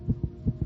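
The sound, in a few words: racing heartbeat of a young child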